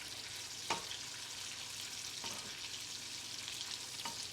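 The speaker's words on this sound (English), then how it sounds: "So we're just cooking the shrimp." Shrimp fry quietly in a pan with a steady soft sizzle, broken by a few faint scrapes as they are rolled around; the whole scene is low and fairly distant.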